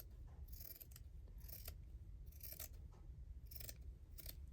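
Scissors cutting fabric for spring bunting, several crisp snips in a steady rhythm, faint and close over a low background hum.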